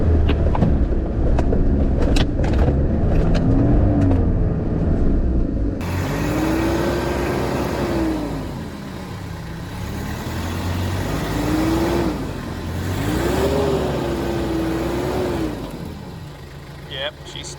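A 4WD grinds up the Blackfellows Hand Trail near Lithgow at night in second gear, low range, its engine droning and rising and falling in pitch as it strains, with a voice talking over the rumble.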